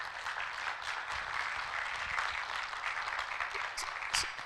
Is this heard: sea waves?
no